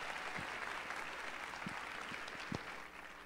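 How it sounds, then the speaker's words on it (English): Audience applause at a plenary language-teaching lecture, steady dense clapping from a large crowd filling the whole stretch at moderate level, with no speech over it. "So please just give them a round of applause."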